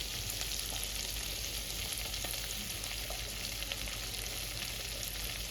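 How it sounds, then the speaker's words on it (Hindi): Green chillies and capsicum fry in an egg malai masala gravy pan with a steady, close sizzle and crackle that runs without a break and no voices. "शिमला मिर्च, इसको भी हमें अच्छे से फ्राई कर लेना है।"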